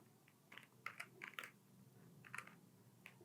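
Typing on a computer keyboard during a language lesson, with soft, clustered clicks in an uneven rhythm that are close but faint, and no talk over them.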